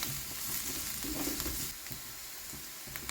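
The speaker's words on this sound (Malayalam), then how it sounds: "ഇനി ഇതിൽ ഇഞ്ചി വെളുത്തുള്ളി പേസ്റ്റ് ചേർക്കാം" Crushed ginger garlic paste sizzles loudly in a hot pan with onions, giving a dense, close frying crackle that eases slightly partway through, with light stirring scrapes.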